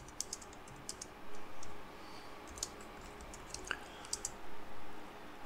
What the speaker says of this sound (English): we're going to type in our IP address of our server